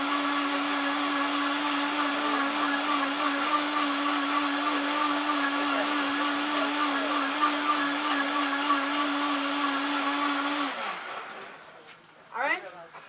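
A Vitamix blender roars steadily at high speed, blending a mixture for about ten seconds before winding down and stopping, leaving a quiet room with a brief rustle.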